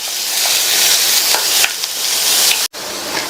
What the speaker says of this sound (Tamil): அதனால ஃபர்ஸ்ட் கேரட்டை நம்ம கொஞ்சம் நேரம் வதக்கிக்கலாம்.